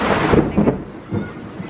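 Thunder rumbles loudly over steady heavy rain during a flooding storm in the Philippines, with broad booming bursts early on and then a softer roll under the continuous downpour.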